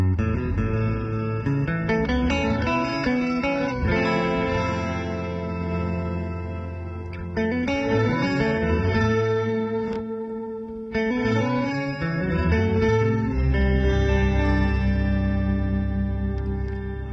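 Electric guitar through a Walrus Audio Descent reverb pedal in reverse mode: notes swell in backwards, each chord blooming from silence into a rising, reversed reverb wash, played slowly with sustained ringing tails.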